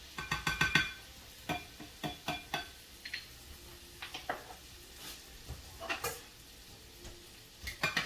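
Minced garlic sizzles in a pan with a soft crackle, broken by a series of distinct clinks and scrapes of a utensil against the metal, fairly close and quiet, with no talking.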